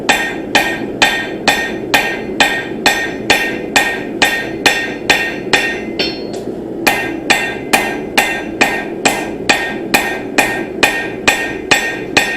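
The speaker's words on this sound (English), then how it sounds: "And now I'm going to be using the rounding hammer." Rounding face of a rounding hammer striking a hot seax blade on the anvil, steady rhythmic ringing blows about two per second with a brief pause midway, loud and close with no talk.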